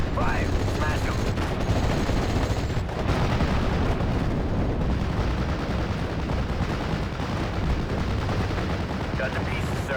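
Dense battle noise from the WWII game Steel Division Normandy 44: continuous rattling gunfire and booming artillery blasts fill the scene, loud and unbroken throughout.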